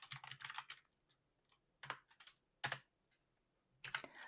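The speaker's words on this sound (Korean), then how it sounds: "텍스트를 쳐보겠습니다" Quiet, close bursts of typing on a computer keyboard, with rapid clusters of key clicks separated by pauses.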